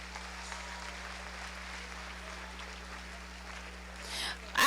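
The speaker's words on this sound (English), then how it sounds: "Please give a round of applause for all of our champion steers." Applause from the crowd at a county fair 4-H champion beef steer show, steady and fairly faint over a low hum, swelling louder near the end.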